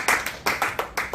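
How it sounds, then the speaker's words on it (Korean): A few people clap at a Korean literary book-talk program, a short run of about seven distinct, evenly paced claps heard close up and with moderate loudness. "우리 박수 한번 주자."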